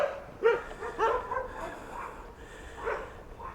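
Small dogs barking and yipping outdoors by a sidewalk, a few sharp bursts at moderate distance over steady background noise, with no speech.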